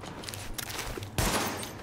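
A rapid burst of gunfire crackles through a noisy scene in the video game The Division, followed by a sharper, louder impact of a TV being shot and breaking apart; no talking.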